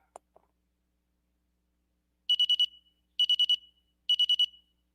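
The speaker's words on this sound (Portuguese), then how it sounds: "E eu posso apertar aqui para fazer o alarme. Vou botar aqui 5 segundos." An Arduino alarm sounds after a five-second timer runs out: three short bursts of rapid, high electronic beeps, each burst of about four pulses, clear and close, with a couple of faint clicks before it and no talking.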